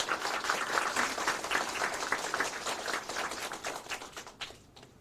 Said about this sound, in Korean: 박수를 좀 쳐주시죠.